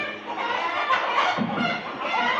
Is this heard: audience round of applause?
no